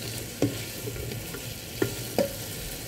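String beans with tofu and oyster sauce are stir-fried in a pan. A steady sizzle runs throughout, broken by three sharp utensil knocks against the pan.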